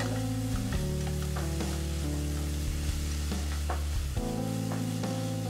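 Chicken stir-frying in a pan, a continuous crackling sizzle at moderate level with occasional stirring clinks and scrapes, close and uninterrupted.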